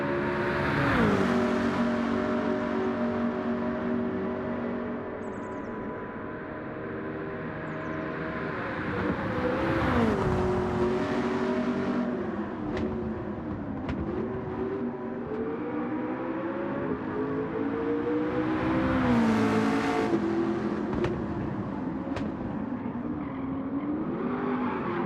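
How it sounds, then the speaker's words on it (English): Naturally aspirated V8 race car in Gran Turismo 7 roars continuously through rising and falling revs, with repeated upshifts and brief lifts for corners, loud and close throughout with no talk. "that V8 doesn't sound too bad, being naturally aspirated and all"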